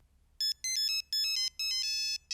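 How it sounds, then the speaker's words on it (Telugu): A mobile phone ringtone rings alone in a quiet room, a bright electronic melody of repeated short bursts building into a longer sustained phrase. "ఫోన్ రింగ్ అవుతుంది."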